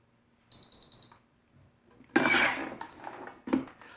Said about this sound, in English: Once the timer goes off